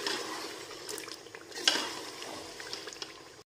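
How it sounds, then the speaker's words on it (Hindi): Chicken coated in masala fries in a pan. A steady sizzling hiss runs throughout, with faint scrapes of stirring and light clinks, and no one talks. "अब हम इसमें डालेंगे चिकन और भून के मसाला, चिकन डाल दिए, अब हम इसको भूनेंगे"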